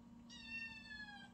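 A house cat gives a single drawn-out meow indoors. It is fairly soft and heard alone over a low steady hum.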